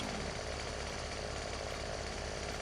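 A chainsaw in Farming Simulator 17 runs steadily and loud while cutting a tree, a continuous buzzing whine that fills the whole stretch without pause.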